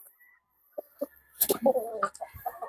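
A Boston roundhead gamefowl rooster clucks among hens in a breeding pen, a few short scattered clucks at first, then a denser burst of close clucking and fowl calls.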